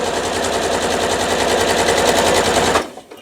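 A sewing machine stitching triangles for a churn dash charity quilt block: a fast, even mechanical rattle held steady for almost three seconds, then stopping abruptly.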